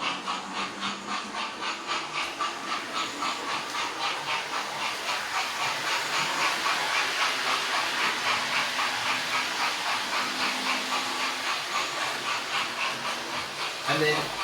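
A Lima Class 37 model locomotive in Cornish Railways BR Blue livery runs on a small layout hauling a post train, giving a steady rhythmic clatter and hiss that continues throughout at moderate level.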